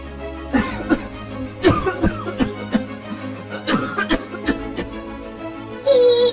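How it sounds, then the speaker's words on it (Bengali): A cartoon beggar coughs in a string of harsh, uneven bursts with some throat clearing, loud and close over a steady background tone. "আপনি কাশছেন কেন?"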